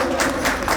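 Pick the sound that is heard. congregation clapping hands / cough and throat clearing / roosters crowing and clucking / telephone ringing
congregation clapping hands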